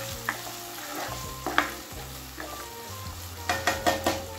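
Tomato cooking in a pan for a green moong sprouts dish, giving a soft continuous sizzle with several sharp spatula scrapes and taps, heard up close with no talking.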